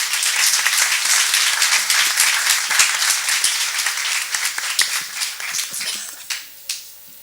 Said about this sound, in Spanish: para quien también pido un fuerte aplauso